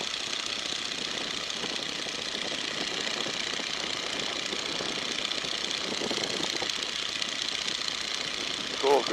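A Boeing N2S-3 Stearman biplane engine drones steadily in flight, a constant loud buzzing rumble heard from inside the cockpit, with faint bits of voice underneath.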